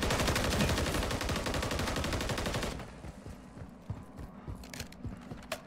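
Sustained rapid machine-gun fire in Call of Duty MW3 Zombies, a loud continuous stream of shots for nearly three seconds, then scattered lighter clicks and mechanical clatter as the firing stops.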